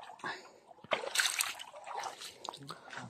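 Water splashing in a small stream, heard as a few close, irregular bursts of splatter and trickle with quieter gaps between, and voices nearby.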